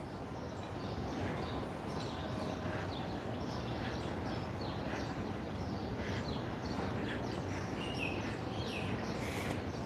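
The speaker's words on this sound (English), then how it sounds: "Hear all the birds" Small birds chirp and call in a leafy spot in the heart of Waikiki, Hawaii, scattered faint tweets over a steady low outdoor hum, with no voices.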